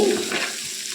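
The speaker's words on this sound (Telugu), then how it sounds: "ఇప్పుడు ఇదే ఆయిల్లోకి ఒక నాలుగు ఉల్లిపాయలని చిన్న ముక్కలుగా కోసుకొని వేసుకోవాలండి" Finely chopped onions and slit green chillies hit a little oil in a clay pot with a brief sizzle that settles into a steady, close frying hiss alongside stirring.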